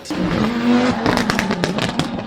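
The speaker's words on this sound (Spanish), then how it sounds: "Ese es el sonido del combustible que se quema a propósito en el escape para mantener el turbo generando impulso todo el tiempo" Subaru rally car with a turbo anti-lag system, a loud, sustained engine roar broken by rapid crackling pops and bangs from the exhaust, close and continuous without talk.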